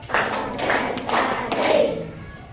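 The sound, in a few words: rhythmic counted hand clapping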